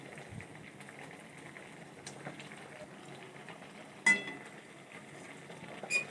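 Chopped banana flower boils in a pot, giving a faint, steady simmering bubble with a couple of sharper clinks near the end.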